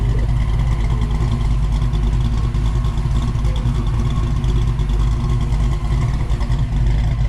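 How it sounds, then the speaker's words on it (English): Ford Foxbody Mustang with a slight exhaust leak, engine running with a loud, steady deep rumble and a rough pulsing exhaust note, close by and without talk. "she's got a little bit of exhaust leak here, I can tell"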